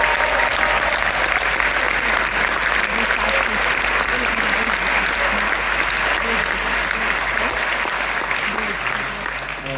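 Concert audience applauding steadily for the bass player, a dense, loud wash of clapping that holds for the whole stretch and fades slightly at the end.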